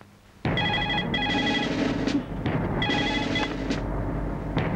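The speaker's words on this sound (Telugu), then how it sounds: "ఇప్పుడు రీడెల్ నొక్కితే అవంతి ఎవరికి ఫోన్ చేసిందో తేలిపోతుంది." A telephone rings after redial is pressed, repeated electronic ring bursts in a steady on-off pattern, close and fairly loud.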